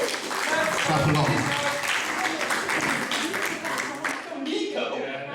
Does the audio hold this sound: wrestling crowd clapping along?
yes